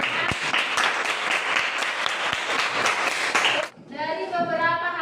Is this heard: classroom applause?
yes